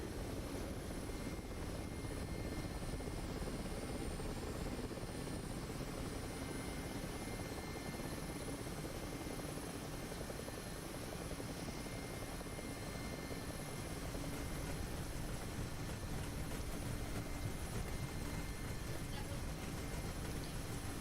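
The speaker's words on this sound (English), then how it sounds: "You gotta be real careful coming in for your landings in the MI-8" Mi-8 helicopter in the DCS flight simulator, its rotor and turbine drone steady and loud for the whole stretch, close and continuous without pauses.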